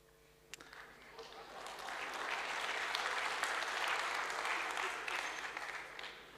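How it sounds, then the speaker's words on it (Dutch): An audience applauds Gwendolyn Rutte, the clapping swelling from a quiet start into sustained, dense applause that holds steady, then tapers slightly toward the end. "Een applaus voor Gwendolyn Rutte"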